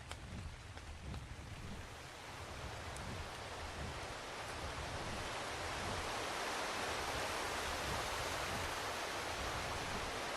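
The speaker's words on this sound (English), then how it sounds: "except for the noise of the waterfall" A waterfall on the Ragnarok map of ARK Survival Ascended gives a continuous, hissing, rushing roar, faint and even, swelling slightly louder as it goes on with no other sounds.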